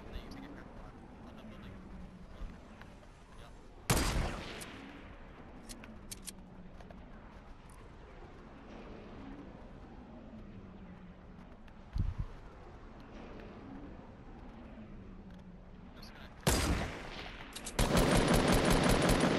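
Bursts of video game gunfire crack out in short, loud volleys, one rapid automatic stream near the end, separated by quieter stretches with soft background noise.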